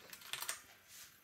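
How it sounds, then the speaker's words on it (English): A few soft clicks of computer keys being pressed, quick light taps heard close but faint, followed by quiet room noise. "see, I press the button on the keyboard"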